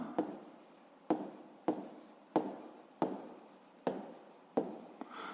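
A pen writes out a fifth-grade math solution in steady strokes, each scratch starting sharp and trailing off, repeating about every second, close and quiet with no talk.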